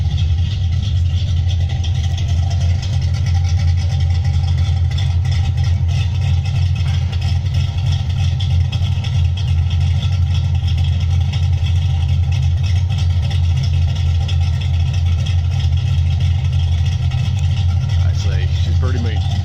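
A 1990 Ford Mustang GT with a choppy cam idles with a steady, loping low rumble, loud and close throughout, and nobody talks over it.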